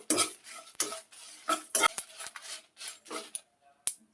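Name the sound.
cumin and mustard seeds roasting in a pan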